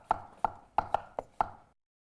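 A knife chopping cucumber, onion and bell pepper on a cutting board during a cooking lesson: six crisp, close chops in an uneven rhythm, then silence.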